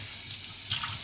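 Water running from a kitchen tap to measure out water for mulled wine (Glühwein), a steady faucet rush that swells louder partway through, with no talking.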